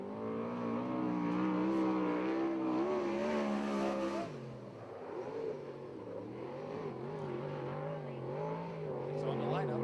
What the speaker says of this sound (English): On the track now in the 97 car,